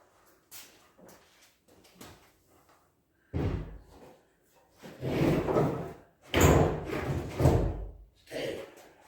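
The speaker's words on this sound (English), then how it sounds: "Unlatch the door. And off comes the door." A Dacia Duster car door is unlatched and lifted off its hinges, giving a few sharp metallic clunks and knocks that stand out close and fairly loud, with quieter handling noises before them.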